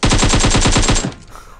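Rapid automatic gunfire in the mobile battle-royale game PUBG Mobile: a loud, close, evenly spaced burst of shots lasting about a second, then cutting off into a faint ringing tail.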